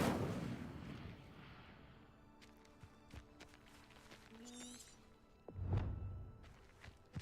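A fire spell blast in Hogwarts Legacy: a string of sharp crackling pops, then a louder whooshing burst near the end, set against a low game soundscape.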